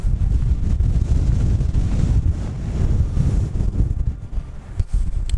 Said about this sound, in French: Parce qu'on arrive à se mettre un peu sur le côté donc on a un peu moins de vent.